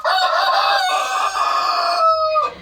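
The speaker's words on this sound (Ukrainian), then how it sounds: "Півник співає" A rooster crows loudly and close by, one long drawn-out call with strong harmonic tones that rises and then trails off.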